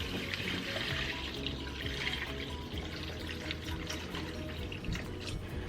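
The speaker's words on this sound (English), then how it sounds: "Let's add all of the water." Water pours steadily into a cooking pot for a smothered pork chop dinner, a continuous splashing rush that holds close and even throughout, with no talking.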